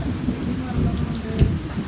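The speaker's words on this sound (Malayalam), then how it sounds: "ഇടിയും വെള്ളമുണ്ട്." Heavy midday thunderstorm: dense rain drums steadily on surfaces, with a low thunder rumble swelling briefly near the end, close and loud, and no talking.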